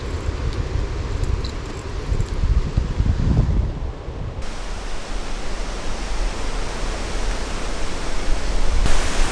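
The Nevėžis river flowing, a dense, steady rushing wash of water heard up close, loud and unbroken with no voices.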